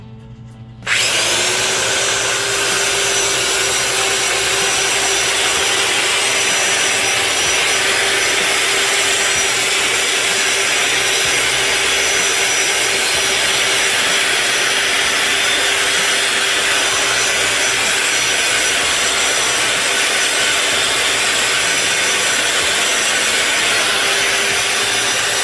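An abrasive belt polishes a Mopar 400 crankshaft with a loud, steady grinding hiss and an even hum that runs unbroken for about 25 seconds, close up and with no talk.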